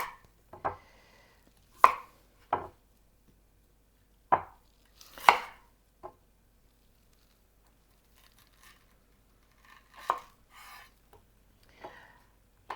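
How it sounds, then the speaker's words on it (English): A knife slices through zucchini on a board in sparse, separate cuts, each a crisp close thud-and-crunch, with quiet pauses between strokes and no talk. "First, I'm going to slice my zucchini."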